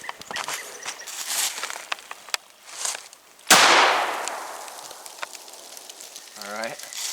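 A shotgun fires a single buckshot load outdoors, one sharp loud blast with a rolling echo that fades over several seconds, amid faint background rustle and a brief voice near the end.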